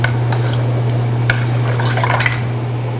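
Carrots sizzle steadily in hot avocado oil in a pan while being stirred, a continuous close frying hiss with occasional utensil scrapes and a low steady hum beneath.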